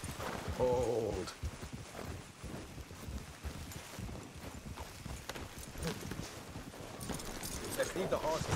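Horse hooves clip-clop at a steady trot beneath people talking, with light wind noise in the background, in the video game Red Dead Redemption 2.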